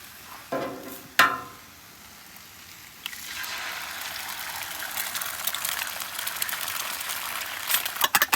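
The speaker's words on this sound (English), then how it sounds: "I just got 2 eggs right here scrambling" Eggs scrambling on a flat-top griddle for chicken fried rice: a couple of brief scraping knocks early on, then a steady, fairly loud hiss of sizzling that carries on to the end, with faint stirring clatter near the close.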